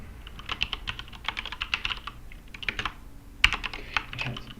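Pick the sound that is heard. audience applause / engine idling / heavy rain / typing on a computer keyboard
typing on a computer keyboard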